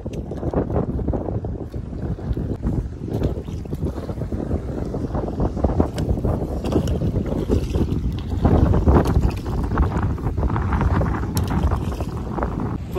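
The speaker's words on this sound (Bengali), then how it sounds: "প্রচুর হাওয়া হচ্ছে আর ঢেউও সাথে।" Strong wind and choppy waves hit a small fishing boat on a river, with a loud, constant rushing roar, wind buffeting the microphone, and irregular slaps and knocks of water against the hull.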